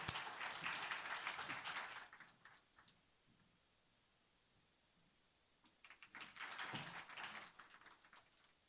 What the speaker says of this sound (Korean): 우리 박수로 모시겠습니다.